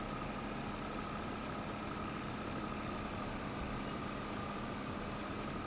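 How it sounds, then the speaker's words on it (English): A vintage Massey Ferguson tractor engine idles steadily and evenly at close range, a constant low rumble with no variation and no voices. "I like this tractor too. It's a Massey Ferguson."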